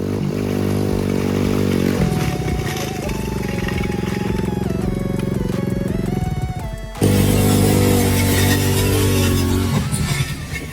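A Dirt 125 motorcycle ridden on its bare rim without a tire, its engine droning and revving close by, with one louder surge of throttle midway and a rattling clatter throughout.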